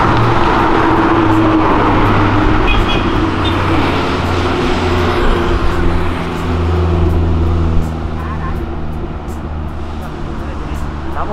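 Sports cars such as a Lamborghini, BMW, Ferrari and an old Porsche downshift along Avenida Europa, a loud, continuous engine roar with rising and falling revs and traffic noise, with people talking at times.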